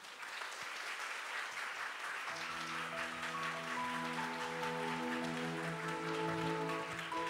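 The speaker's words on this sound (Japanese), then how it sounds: "皆さん大きな拍手 でお迎えください" An audience at an anime premiere screening and cast talk show bursts into applause as the cast walks on stage, steady clapping throughout with a musical fanfare rising in underneath after a couple of seconds.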